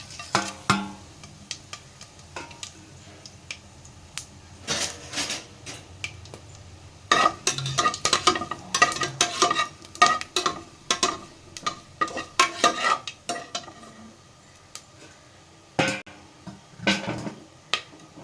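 Whole spices are tossed into hot oil for a vegetable biryani, giving intermittent crackles and clattering utensil knocks against the pot, close by, with quieter stretches between bursts and no talk.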